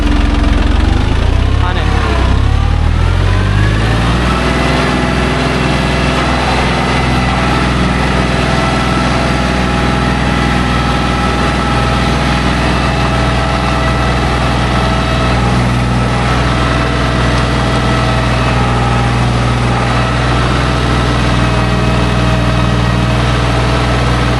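A farm tractor's engine runs loud and close while a manure pit is emptied, briefly shifting pitch at first before settling into a steady, unbroken low drone that lasts throughout.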